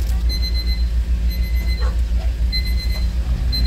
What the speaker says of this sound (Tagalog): Nag-a-alarm pa to.